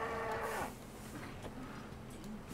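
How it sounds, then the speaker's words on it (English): A cow in the Resident Evil 4 Remake video game lets out a loud, harmonic moo in the first half-second, followed by quieter game ambience and faint rustling. "Was this bitch ass cow trying to run me over?"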